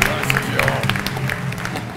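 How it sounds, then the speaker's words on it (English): An audience applauds a comedy debate speaker, with a steady wash of clapping in a hot, crowded room while a voice talks over it. "Another round of applause for the lady Kirsty Mack"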